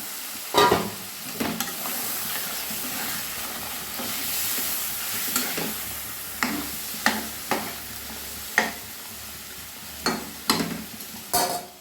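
Chicken for chicken chaap cooking in a pan with water from rinsing the spice bowl, a constant bubbling sizzle broken by a series of sharp, close scrapes and knocks from stirring at irregular intervals.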